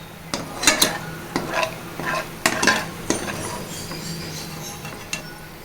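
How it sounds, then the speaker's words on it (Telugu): Bitter gourd pieces frying in oil for a Telangana-style fry, stirred with a metal spatula that knocks and scrapes the pan in irregular bursts over a soft continuous sizzle, close and without voices. "ఇలా ఫ్రై చేసుకుంటే మంచిగా కాకరకాయ ముక్కలు చేదు ఉండవండి"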